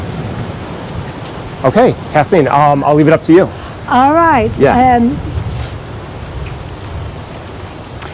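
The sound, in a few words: rain falling outside the Saenger Theater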